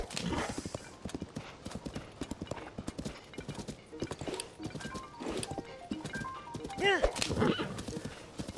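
Horse hooves clip-clop in a quick galloping rhythm in Zelda: Tears of the Kingdom, with a whinny near the end and someone talking over it.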